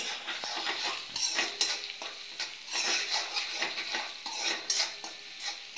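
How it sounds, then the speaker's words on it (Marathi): Onions frying in a pan for a Kolhapuri mutton gravy, stirred continuously with a metal utensil, giving a busy stream of close scraping and clinking over a soft sizzle. "कांदा छान गुलाबी रंगावर परतून घ्यायचा आहे मस्तपैकी,"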